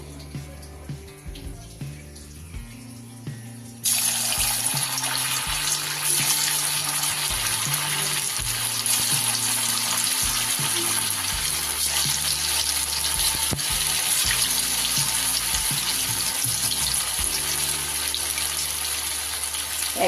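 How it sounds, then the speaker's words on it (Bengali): Cauliflower and paneer kofta drop into hot rice bran oil in a kadai over high flame, bursting into a loud, steady, bubbling sizzle after a few quiet seconds, continuing without talk. "কড়াইতে আমি বেশ কিছুটা রাইস ব্র্যান অয়েল দিয়ে দিয়েছি মুঠা বা কোপ্তাগুলো এবার আমি ভেজে নেব"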